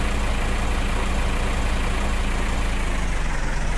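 A tractor engine idles steadily in Farming Simulator 2015, a low, even diesel rumble with a continuous drone that holds unchanged throughout, loud and close with no talk.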